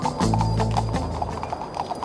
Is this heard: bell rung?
no